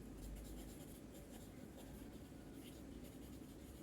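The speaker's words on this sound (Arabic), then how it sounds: "هتفتحيها وتكتبي فيها اهو" A pen scratches steadily across a notebook page in continuous short strokes, close and fairly quiet, with no talking.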